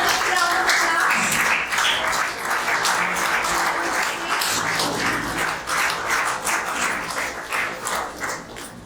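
An audience claps for the first-place winner at an award ceremony at an IAS coaching institute in Rajahmundry: dense, steady applause filling the room for several seconds, thinning slightly toward the end, with faint voices underneath.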